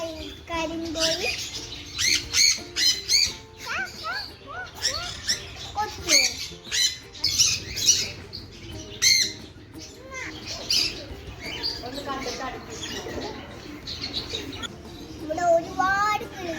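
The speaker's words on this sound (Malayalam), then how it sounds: "ഇവിടെ ഒരുപാട് കിളികളുണ്ട്." Birds squawk and chirp at a bird park in Wayanad, repeated sharp calls close by in irregular bursts, with people chatting in the background.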